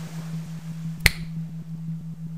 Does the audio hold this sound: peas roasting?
no